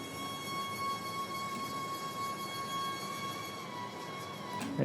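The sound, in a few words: duplicate bansuri flute pitched up an octave with fast auto pan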